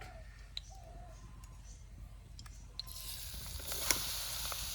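Carrots frying in melted ghee for carrot halwa, a soft steady sizzle with faint crackles and occasional stirring clicks, quiet and close, no voices.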